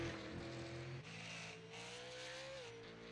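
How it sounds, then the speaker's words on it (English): Race car engine in the iRacing video game, an Outlaw Super Series car with the throttle worked up and down, a steady droning whine that shifts pitch as the revs rise and fall, faint and alone. "You hear him working that throttle"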